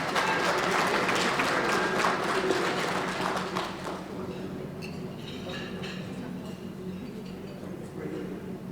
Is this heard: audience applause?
yes